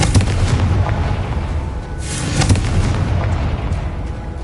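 A Confringo fire spell explodes in the video game Hogwarts Legacy, a loud rumbling blast that swells again midway and rolls on with a sustained fiery roar.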